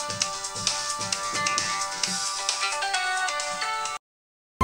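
A phone rings with a musical ringtone for an incoming call, playing a repeating rhythmic pattern close and steady for about four seconds before cutting off abruptly.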